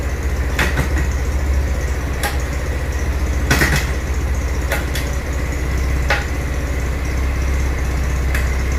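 A Venom X20 Grom clone motorcycle engine idles steadily, upright after an oil change: a continuous low, even putter with occasional sharp mechanical ticks and clicks over it.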